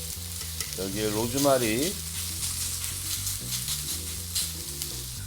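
A steak hits a hot pan and sizzles steadily with rosemary alongside, a close, continuous frying hiss with light stirring clatter while someone talks over it.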